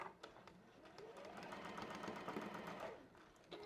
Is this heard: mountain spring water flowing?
no